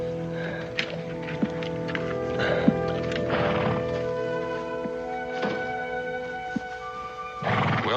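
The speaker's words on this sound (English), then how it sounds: "Ormond, your horse is here." A horse whinnies amid a busy background of steady tonal hum, with a few soft thumps and hoof-like knocks scattered throughout.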